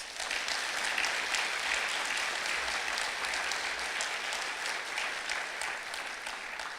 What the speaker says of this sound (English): Can we all give them a round of applause, please?